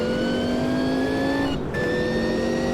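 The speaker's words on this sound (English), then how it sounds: "Wheel spin in second." A Sauber C9 race car engine in a racing video game at Spa screams at high revs with a steady pitch, wheels spinning in second gear, briefly dipping as it shifts, then climbing again.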